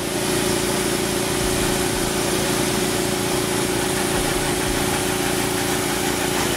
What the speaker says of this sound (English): So I'm gonna turn on the compressor